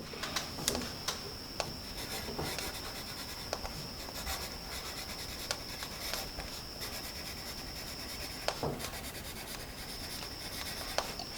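A Palomino Prospector pencil scratches steadily across paper up close, a soft continuous rubbing with small ticks and pauses between strokes, no voices.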